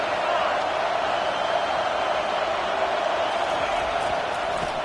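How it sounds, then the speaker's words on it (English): Stadium crowd in the College Football 25 video game, a dense, steady roar of cheering without breaks, loud and continuous. "This crowd bringing the energy and noise early."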